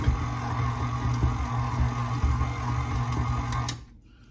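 An electric mixer combines cookie dough with flour, giving a steady motor hum and whir that runs unbroken for several seconds and then cuts off abruptly.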